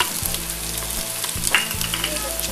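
Ginger garlic paste sizzles as it fries in a pan with browned onions for a red beans dish, a steady close crackle with small pops and no voices.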